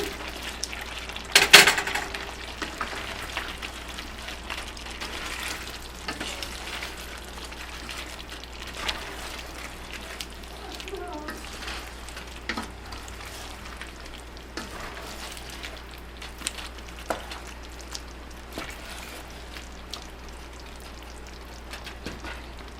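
Sliced zucchini sizzles in a pan with fried onion and spices, a soft steady crackle with scattered pops and occasional stirring clinks, quiet and continuous.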